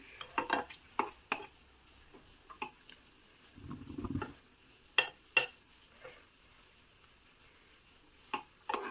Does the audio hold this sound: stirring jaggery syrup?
yes